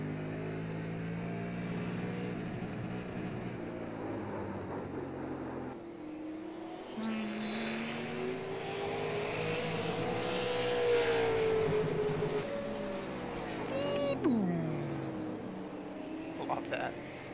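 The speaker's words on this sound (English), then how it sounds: "I will say these cars sound badass." Super Late Model race car engines from the iRacing sim at Thompson, steady loud engine drone with rising and falling revs, a pass sweeping by near the end, under talk.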